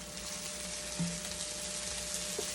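Egg-dipped chicken pieces for sweet and sour chicken frying in a pan, a constant hissing sizzle with a brief thud as a piece lands about a second in, near and moderately quiet, without speech.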